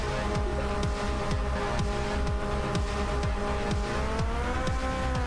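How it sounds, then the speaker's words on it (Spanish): Game motorbikes roar in pursuit in My Friend Pedro, a loud, steady engine drone with repeated rising revs under gameplay sound effects, no talking. "¿nos persiguen ahora en moto?"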